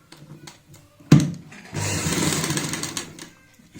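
After a soft clack, a sewing machine runs a short burst of steady whirring stitches along a palazzo trouser hem. The sound is close and fairly loud and fades out near the end.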